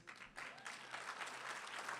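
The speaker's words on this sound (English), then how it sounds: "I never really expected to get an applause" A commencement audience breaks into applause, clapping swelling quickly after a brief lull and holding steady as a broad, moderately distant wash.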